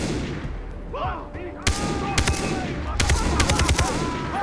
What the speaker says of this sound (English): Shooting the cage will free the animal.